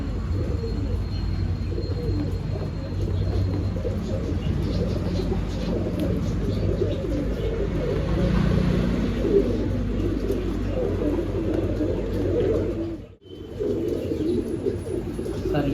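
Pigeons at a pigeon sale in Bangalore, cooing steadily and close by amid a busy background murmur, with a brief dropout near the end.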